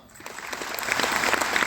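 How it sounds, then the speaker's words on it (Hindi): Applause from an audience at a business seminar swells quickly from quiet to a steady, fairly loud patter over a short stretch. "तालियां।"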